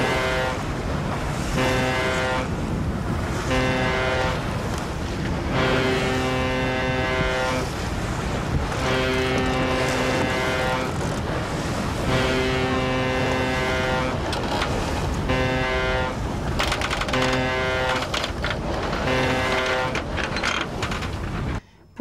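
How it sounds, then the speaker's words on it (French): Repeated long, deep foghorn blasts with pauses between them, sounding outdoors at sea over wind and water noise. "vous pouvez envoyer avec une corne de brume soit un SOS"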